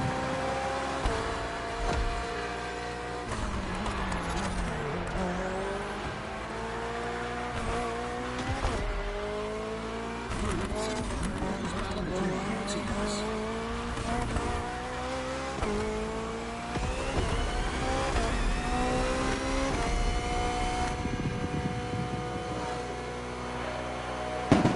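Hybrid V8 race car engine in The Crew Motorfest, a BMW racing game, droning steadily and loud throughout, with rising and falling revs through gear changes, occasional tire squeal and a sharp burst at the very end.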